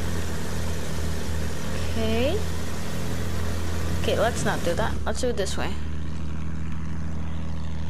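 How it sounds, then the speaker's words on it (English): A military plane's engine in Battlefield 1 drones steadily through the game's soundscape. Someone talks over it, and brief bursts of game effects cut in partway through. "This plane goes crazy."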